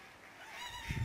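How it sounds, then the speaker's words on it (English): Ducks give a short, faint, nasal honking call that rises at the end, heard alone in a quiet outdoor setting. "Ducks."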